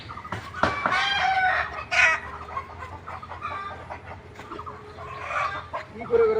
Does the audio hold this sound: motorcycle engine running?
no